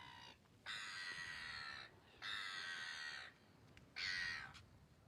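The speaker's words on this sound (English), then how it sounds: "That's the birds taking over." Birds on a beach call in three loud, harsh, raspy bursts of about a second each, separated by short gaps, close and with no talk.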